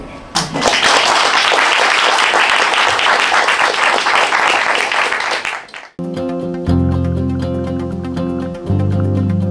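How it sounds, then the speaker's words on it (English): Dense, loud audience applause for staff fills the first six seconds, then cuts off abruptly into a steady tonal music track. "I honestly think that we should give them a round of applause for that thinking"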